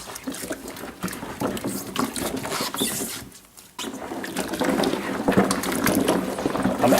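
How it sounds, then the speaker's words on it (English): Black walnuts are swished and agitated in a container of water during washing, giving an irregular sloshing, pattering and trickling sound with a short lull midway, close and with no talk. "I'm agitating the walnuts for their second time, the second change of water"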